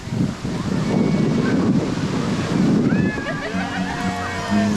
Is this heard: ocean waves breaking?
yes